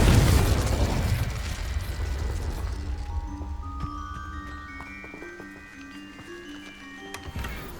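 A Confringo spell blast in the video game Hogwarts Legacy bursts loudly at the start with a broad rumble, then fades into ringing magical tones and chimes that linger over the following seconds.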